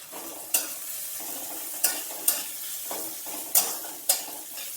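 Chopped medium onions fry in a pan for chicken curry, a low steady sizzle punctuated by five or six crisp spatula scrapes at an uneven pace, close and clear.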